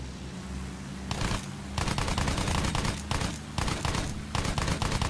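Heavy sustained gunfire in Battlefield 1 as an aircraft is shot down, dense rapid bursts of automatic fire coming in loud waves with brief pauses between them, no talking.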